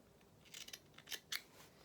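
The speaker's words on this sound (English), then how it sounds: "Just trim it back a little bit more maybe, because it is very tight." Scissors trim the fabric seam allowance on a lined doll jacket with tails, making a few quiet, close snips in a short irregular cluster.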